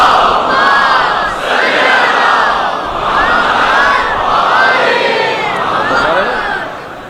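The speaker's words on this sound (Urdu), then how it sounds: "اس سے بلند اور بہتر صلوات ہدیہ کریں گے۔" A large religious gathering loudly recites salawat in unison, voices swelling together in a chanted refrain that rises and falls in waves, close and dense, fading slightly at the end.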